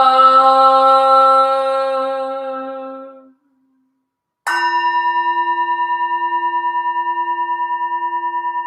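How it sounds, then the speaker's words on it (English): A deep Buddhist temple bell booms and hums as it slowly fades, then is struck again, its long resonant tone pulsing steadily. "The sound of the temple bell booms for all to cease from conflict"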